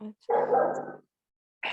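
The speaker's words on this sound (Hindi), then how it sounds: "पीछे कुत्ता भौंक रहा है बिल्कुल।" A dog barks somewhere behind someone speaking into a microphone during an online class, one short, loud, harmonic bark overlapping his brief word.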